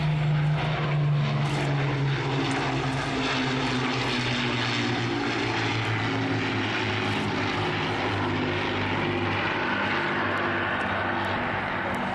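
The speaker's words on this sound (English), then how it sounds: "The Lancaster bomber, of course, the only Lancaster flying in Europe." The Lancaster bomber at the Battle of Britain Memorial Flight display at Duxford passes with a loud, steady drone from its propeller engines. The drone holds throughout and swells slightly as the aircraft goes by, with no talk.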